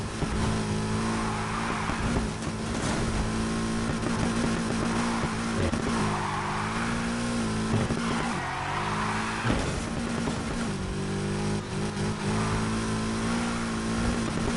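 A rear-wheel-drive drift car in a racing video game, converted from all-wheel drive, holds a loud steady engine drone throughout, with revving swells and tire squeal layered over a continuous game mix.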